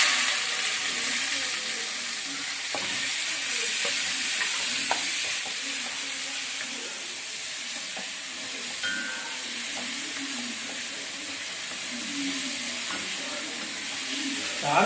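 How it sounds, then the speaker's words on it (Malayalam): Onions frying in hot oil with cinnamon, cloves and cardamom for a Thrissur-style beef roast, a steady loud sizzle with occasional stirring scrapes throughout, close by. "ഇനി ഉള്ളി ഇടുവാണ്."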